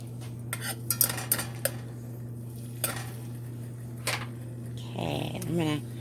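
Metal utensil clinks and scrapes against a pot in short bursts as flour is worked into melted butter for a roux, over a steady low hum, with a voice speaking toward the end.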